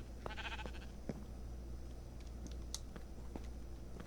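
Minecraft sheep bleat faintly near a sheep generator in a Halloween fair build, a few brief wavering bleats over a low steady hum with scattered small clicks, quiet and somewhat distant.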